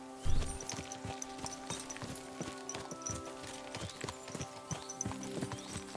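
Steady clip-clop of a horse's hooves walking at an even pace in Kingdom Come: Deliverance 2, with a brief snort at the start and game ambience underneath; no one speaks.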